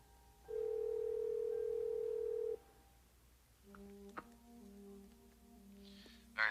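A telephone dial tone sounds as a steady, loud tone for about two seconds, then gives way to quieter tones and brief clicks as a number is dialed on a landline.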